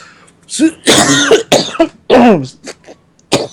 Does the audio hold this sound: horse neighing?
no